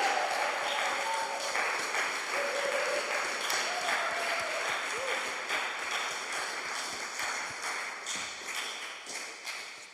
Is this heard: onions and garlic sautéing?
no